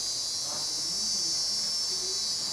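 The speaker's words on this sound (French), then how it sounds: "Les cigales, là-bas, ont un bruit métallique." Cicadas in Madagascar give a dense, continuous metallic buzz that holds steady and loud throughout, with faint low murmurs underneath.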